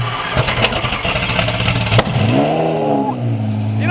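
A twin turbo Lamborghini Gallardo Superleggera starts up loud and close, a cranking clatter that catches and rises into a sweeping rev before settling to a rough idle.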